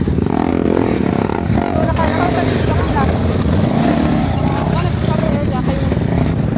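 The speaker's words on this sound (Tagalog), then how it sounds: "Lakas ang mga motor." Adventure motorcycle engines rev and roar loudly nearby, a dense, continuous mechanical din with clattering over it and voices calling out.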